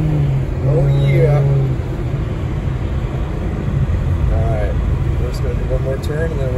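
A car doing high-speed donuts and drifting, its engine droning and revving loudly and continuously with a sustained low rumble, while a voice talks over it.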